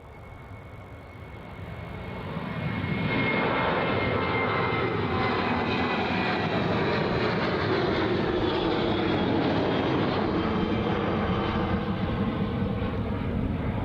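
A Virgin Australia airliner arrives at Melbourne Airport, its jet roar swelling from moderate to loud and holding as a sustained, close, broadband rumble.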